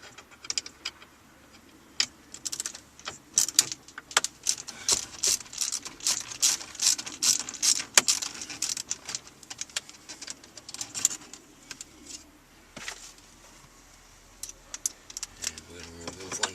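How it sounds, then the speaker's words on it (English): Small metallic clicks and rattles from a 90-degree screwdriver backing out a screw on the ashtray assembly of a Honda CR-V, a close, irregular run of quick ticks and scrapes with no talking. "we're going to remove the one on the right with our 90-degree screwdriver here."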